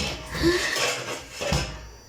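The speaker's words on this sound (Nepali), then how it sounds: "थाल झिकिरहेछ।" Metal plates clank as a child pulls them out of a household cupboard, two short clattering bursts about a second apart in a quiet room.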